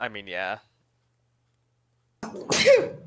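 A single sharp sneeze bursts out about two seconds after a brief spoken phrase, following a stretch of silence, close and loud.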